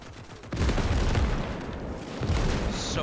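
An artillery barrage in the Soviet campaign of the war game Gates of Hell: heavy, rumbling booms and blasts that roll in after a quieter start, with a dull, continuous thunder of impacts and no voices.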